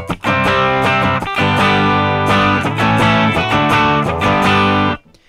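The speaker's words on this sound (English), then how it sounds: "you can hear that I have control over how much distortion is in the signal." Electric guitar played through distortion in Ableton Live, strummed chords ringing loud and sustained with crunchy, saturated tone, then cutting off abruptly at the end.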